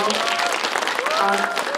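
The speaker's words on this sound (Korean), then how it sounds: "여러분 박수 한번 보내주세요." Audience applause fills a film screening Q&A for the movie 'Harbin': a dense, steady clatter of many hands throughout, with a voice faintly audible over the clapping.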